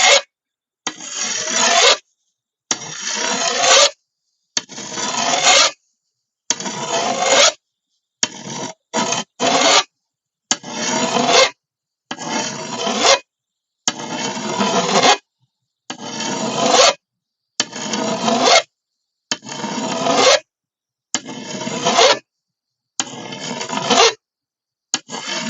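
A rasp worked along a large, long-neglected blade in even back-and-forth strokes, each a loud, close grating scrape of a second or two, separated by short silences, about a dozen passes.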